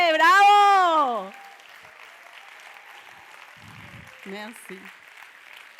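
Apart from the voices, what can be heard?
audience applause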